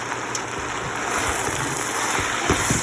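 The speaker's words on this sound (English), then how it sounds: "keep stirring until the ملوخية is sauteed well with the onion and garlic" Jew's mallow (mulukhiyah) leaves sautéing with onion and garlic in a pan over lowered heat, a steady broadband sizzle with scattered stirring scrapes and clicks, close and continuous without talk.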